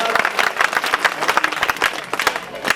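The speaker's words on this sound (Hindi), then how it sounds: "जोरदार तालियों से स्वागत" Applause from a gathering at a Bhagavat Katha religious discourse, greeting a 5000-rupee donation, with irregular claps, close and moderately loud, and some scattered voices mixed in.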